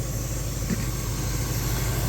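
The engine of a 1961 Cadillac Fleetwood idles with a constant, even, low drone, close and loud, with no speech over it.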